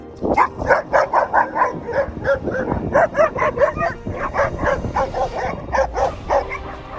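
Street dogs bark in a rapid, steady string of sharp barks and yips, several voices overlapping and fairly close, with no talking.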